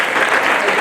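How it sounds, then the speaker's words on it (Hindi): Loud, dense applause from a standing political rally audience welcoming the party president, continuous clapping close up, brief. "खड़े होकर मान्य अध्यक्ष जी का ताली बजाकर जोरदार स्वागत करें।"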